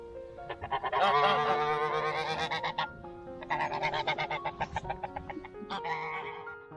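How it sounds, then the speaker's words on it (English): A flock of geese honks loudly and repeatedly in overlapping bursts, close by, with short pauses between noisy clusters of calls. "No watchdog, but watch geese."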